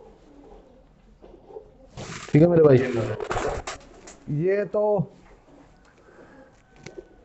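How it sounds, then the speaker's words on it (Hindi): Madrasi pigeons coo in a loft, a few soft throaty calls surfacing between stretches of close male speech that carries over most of the sound. "तो ये कबूतर देख लीजिए भाई"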